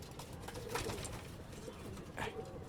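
Pigeons of fancy breeds in a loft give soft, low cooing calls, heard close and steady at moderate level, with a couple of brief louder flutters or call bursts against a dense background.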